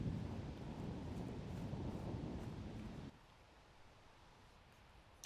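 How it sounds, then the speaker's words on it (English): Wind gusts roughly across the microphone at a disc golf tournament course, a rumbling buffeting roar that drops abruptly to a quieter, softer hiss partway through. "You see the wind just whipping all over the place here."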